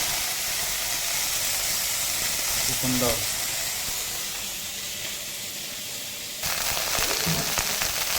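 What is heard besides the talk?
moringa leaves frying in oil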